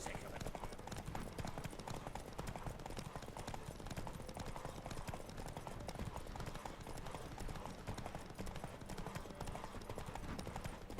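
Horse galloping in a race in The Witcher 3, with steady, fast hoofbeats that continue without a break under a dense wash of rushing noise.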